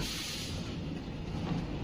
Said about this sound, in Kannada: ಇನ್ನೊಂದು ಟ್ರೈನ್ನ ಸ್ಟೆಂಟಿಂಗ್ ಲೋಕೋ ನೋಡಿ